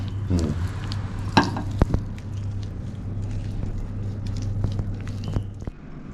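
Aloo tikki mixture being stirred and mixed by hand, with soft scraping and a few sharp knocks of a utensil against the bowl over a steady low hum, close and moderately quiet.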